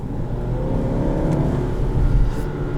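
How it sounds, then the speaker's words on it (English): A 2020 Volkswagen Passat SEL accelerating hard in 4th gear with the throttle floored, heard from inside as a loud, steady, low engine drone that builds slightly, with no talk over it. "I just floor the gas."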